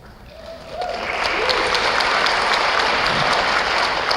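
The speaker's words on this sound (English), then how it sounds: "you can clap for that" Audience applause at a Green New Deal town hall forum, starting softer and swelling within the first second into full, sustained clapping from a crowd with a few sharper claps on top.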